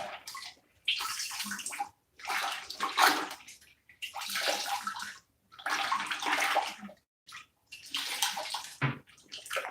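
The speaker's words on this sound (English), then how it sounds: "You're squeezing and pushing the water down into the base of the brush." Water sloshes and gurgles in bursts as a paintbrush is rinsed and squeezed, forcing water into the base of its bristles; loud, close splashing sessions separated by brief silences, no voices.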